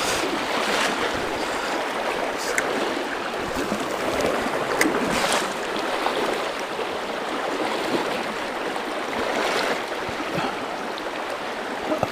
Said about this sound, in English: Wonder how audio is with all this water ripping.